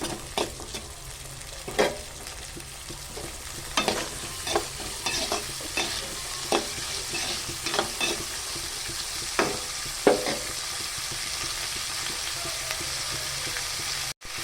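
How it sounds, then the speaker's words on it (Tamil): Finely chopped onion sautés in a pan for a mint rice dish, a constant soft sizzle underneath irregular scraping strokes of a spoon stirring it, with no talking. "நம்ம பொடியாக கட் பண்ணி வச்சுருக்கிற வெங்காயத்தை நல்லா வதக்கிக்கலாம்."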